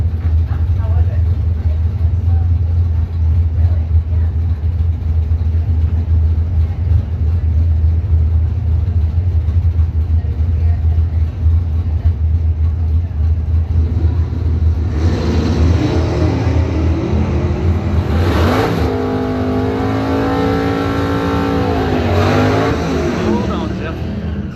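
A 1967 Plymouth Barracuda drag car at a Bowtie Challenge event sits with a low, steady rumble, then its engine rises into a loud, revving roar. Someone talks over the engine near the end.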